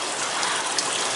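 Water from a sump, driven by a mag drive pump, gushes steadily through the drain plumbing of a multi-tank aquarium fish room, a continuous hiss-like rush with no voices.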